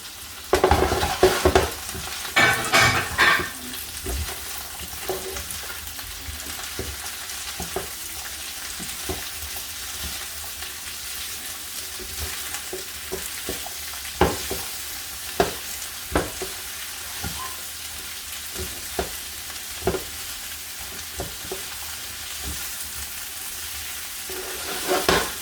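Vegetables and tofu stir-frying in a pan with steady sizzling throughout, punctuated by scraping and tapping of a spatula as it is stirred, close and continuous.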